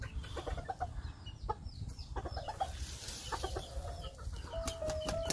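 A Northern bantam hen and an old rooster cluck softly at close range with intermittent short calls, over a steady low outdoor rumble on a rural Vietnamese farm.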